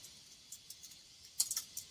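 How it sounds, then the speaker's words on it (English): Faint, sparse clicks of keys being pressed on a computer keyboard, a few scattered taps with a brief quick burst near the end. "Typing."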